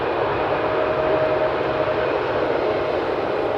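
A passenger airplane rolls off runway 18R onto the first exit at Amsterdam Schiphol, a steady broad engine roar with a faint high whine, held at even loudness throughout without pause.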